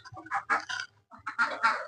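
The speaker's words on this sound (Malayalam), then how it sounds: "നമ്മുടെ താറാവുകളൊക്കെ ഒന്ന് കാണാം" Ducks on a small farm give a run of loud, close quacking calls in two bursts, with a short pause between them and no talking.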